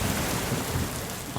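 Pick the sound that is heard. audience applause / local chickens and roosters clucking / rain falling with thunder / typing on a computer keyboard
rain falling with thunder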